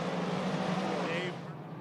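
Race cars circling Lernerville Speedway on opening night, a loud continuous engine roar close by that eases slightly toward the end, heard under an announcer calling the race.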